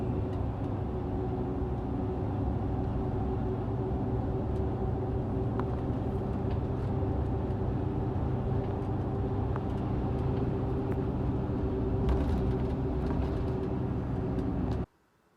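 Steady, unbroken hum of a Pontiac GTO engine as the car drives around a curve. The note stays close and even for about fifteen seconds, with no speech, then cuts off abruptly.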